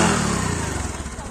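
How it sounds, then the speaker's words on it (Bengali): A motorcycle engine starts and runs close by, a loud, throbbing rumble that eases slightly toward the end, with no voices over it. "একটু পর পর মোটর সাইকেল খালি স্টার্ট দেয়"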